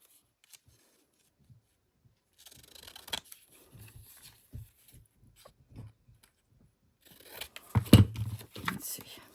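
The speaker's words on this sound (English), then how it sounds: "Grabbing a pair of scissors." Scissors snip and rustle through paper in short, sparse cuts between quiet gaps, ending in a louder burst of crinkling near the end, with faint sounds nearby.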